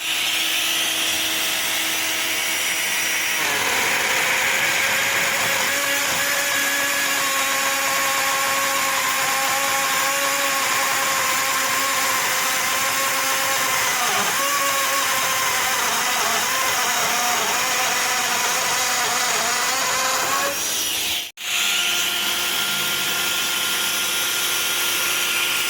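Parkside PPAKF 12 A1 cordless edge router cutting grooves: a loud, steady high whine with a rising and falling cutting tone that runs for about seventeen seconds, then cuts off with a brief dip before the motor spins back up.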